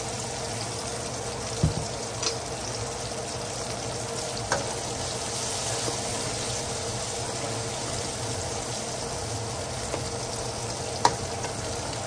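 Steady oily sizzle of ginger garlic paste frying in oil in a pan, constant and fairly loud, with a few faint clinks of a spoon stirring.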